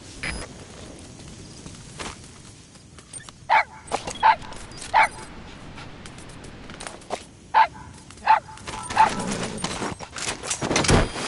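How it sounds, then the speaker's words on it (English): A wild dog pup in Metal Gear Solid V gives a run of sharp, high yips and barks in short bursts of two or three, with soft whimpers between them, heard close over a quiet outdoor background. "That wild dog pup. He's a tough little guy."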